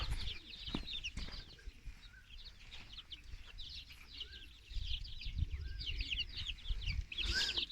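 Ornamental chickens cluck and chatter softly at a distance, with quiet scattered bird calls and faint rustling in the background.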